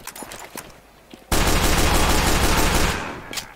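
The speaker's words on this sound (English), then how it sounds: "Fully upgraded turret." Fully upgraded engineer sentry turret in Team Fortress 2 opening fire: after scattered faint shots, a loud, dense stream of rapid machine-gun fire erupts and holds for about two seconds before tapering.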